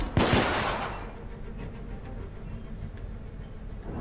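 Automatic fire from an M85 machine gun in the Victorian-era shooter The Order: 1886, a loud burst opening the clip, then a lingering low rumble and scattered faint shots to the end.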